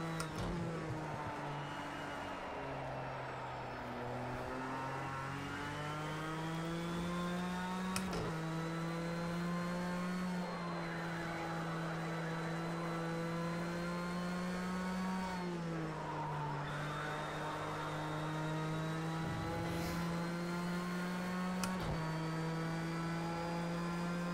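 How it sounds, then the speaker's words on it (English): A turbocharged race car engine held in third gear in the Project CARS 2 video game, a steady loud whining drone that dips and rises through a corner, with a faint tire squeal and no talk. "Gonna try this corner in 3rd gear because I think the turbo might be able to give me a little more boost."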